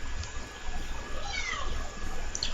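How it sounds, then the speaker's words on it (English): A cat meows faintly in the background in a quiet room, a couple of short rising calls under a low steady hum. "if you hear a cat in the background"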